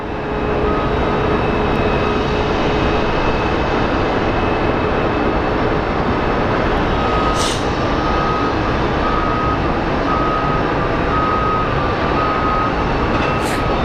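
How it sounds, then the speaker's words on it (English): A Southwest Airlines jet on final approach into Phoenix Sky Harbor, arriving from Baltimore, gives a loud, steady roar that holds unbroken throughout, with a faint tonal whine running through it and no voices. "our Southwest 2481 coming in from Baltimore is on final."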